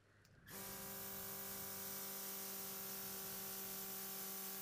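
An airbrush spraying UV gel nail polish: a steady close hiss of spraying starts after a brief moment and continues evenly, accompanied by a constant mechanical hum.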